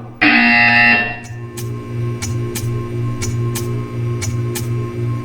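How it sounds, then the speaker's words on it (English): A buzzer in the video game Portal 2, a loud harsh electronic tone lasting about a second over a steady low hum, followed by a series of short clicking pulses. "You will hear a buzzer."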